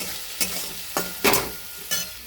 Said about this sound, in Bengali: এবার একটু ভালো করে এটাকে কষবো